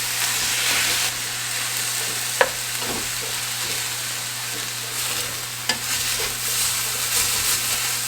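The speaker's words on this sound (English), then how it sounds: "I'm gonna kind of just scrape up those brown bits in the bottom too." A utensil scrapes browned bits off a sizzling pan bottom while chicken cooks, under constant frying hiss with a couple of sharp scraping clicks.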